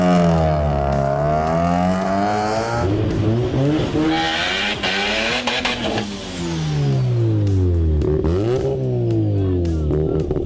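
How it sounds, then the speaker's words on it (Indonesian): Mazda RX-7 and RX-8 rotary engines rev hard and loud, pitch sweeping up and down in repeated surges, with a brief tire squeal mid-way. "Contoh nih, geberan Mazda RX-7 dan 8."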